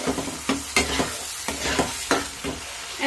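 Spices with salt and turmeric being stir-fried in a pan for a Bengali potol (pointed gourd) dish, a steady sizzle broken by rhythmic scraping strokes of the spoon about every half second.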